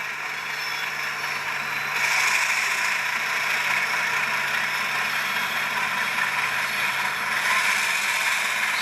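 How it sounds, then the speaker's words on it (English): HO scale Rapido FPA2u/FPB2u model locomotive with LokSound decoder running, a continuous mechanical whir and rattle with a faint high squeal of flange and brakes over it, close and steady. "Little flange squeal there. And you hear the brake squeal there."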